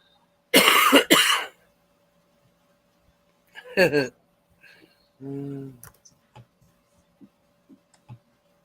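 A harsh, loud cough bursts out near the start, followed later by a throat-clearing rasp and a short voiced grunt amid quiet clicks.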